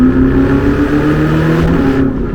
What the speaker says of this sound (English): And the sound of those turbos, guys.